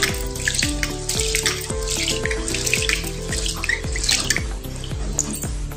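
Tap water runs into a pot holding four mixed lentils being washed, a loud close stream with bubbling and splashing punctuated by repeated clinks and knocks of the grains and vessel, no talking.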